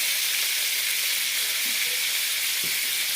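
Turmeric and chili powder sizzle in hot mustard oil for a rohu fish and cauliflower curry, a steady, loud frying hiss that continues without a break and with no voices.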